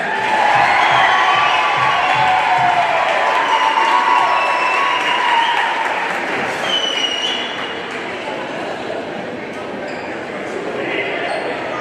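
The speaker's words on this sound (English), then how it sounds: "please give another big round of applause for your 6th district, all-district team" A crowd cheers and applauds in a school gym at a girls' high school basketball event, loud and sustained with shouting throughout, easing slightly toward the end.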